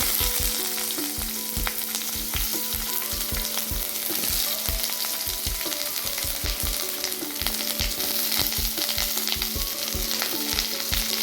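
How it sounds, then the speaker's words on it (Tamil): Chopped onion fries in hot oil for a coriander mint chutney, giving a loud, continuous close sizzle with repeated stirring scrapes throughout and no talking. "இப்போ ஆயில் சூடானதும் நம்ம வெங்காயம் கட் பண்ணி வச்சுருக்கோங்க இல்லையா, அது சேர்த்துக்கோங்க"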